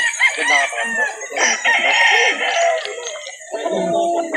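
Several chickens cluck and roosters crow close by at a chicken market in Calauan, Laguna, overlapping calls filling the air with a steady high hiss in the background.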